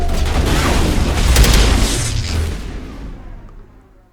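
Gunfire and explosions in the game Mass Effect, a heavy booming blast swelling and rumbling with crackling debris before fading away into near silence.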